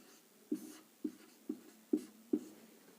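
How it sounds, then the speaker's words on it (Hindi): Writing on a board during a reasoning lesson on cubes and cuboids, five short tapping strokes spaced about half a second apart, close and quiet, over a near-silent background. "मैं लिख दे रहा हूं फलक पर।"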